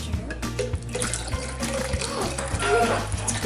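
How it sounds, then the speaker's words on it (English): A stream of water runs and splashes steadily into a lemon and strawberry mixture for lemonade, close and fairly loud, with a low hum beneath it. "Now we're adding some water to our lemon and strawberry mixture."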